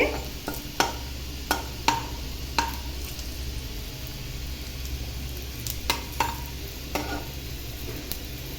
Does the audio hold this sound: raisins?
yes